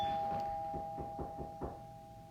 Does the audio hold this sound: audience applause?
no